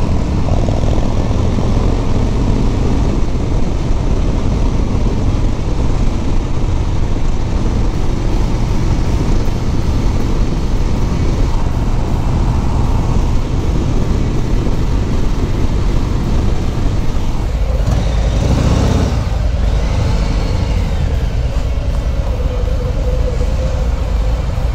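A 2019 Harley-Davidson Sport Glide with a Milwaukee-Eight engine is ridden on a test ride, a loud, steady engine drone mixed with heavy wind rush that shifts briefly near the end.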